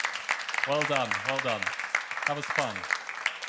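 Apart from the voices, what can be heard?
audience applause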